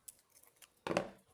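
Scissors snip through crochet yarn in a quiet room: a few faint clicks, then one clear crisp cut.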